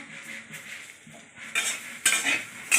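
Drumstick leaves stirred in a frying pan, with a soft sizzle under scraping and clinking of a metal spoon against the pan, growing louder in quick bursts near the end; no talking.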